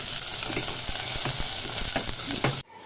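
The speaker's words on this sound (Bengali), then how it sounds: "এবার একে একে সমস্ত সবজিগুলো দিয়ে দেবে। একটু নেড়ে চেড়ে নেবে।" Vegetables for bitter gourd chorchori sizzle steadily in a hot pan while a spoon stirs them, with repeated scraping clicks against the pan, before the sound cuts off abruptly.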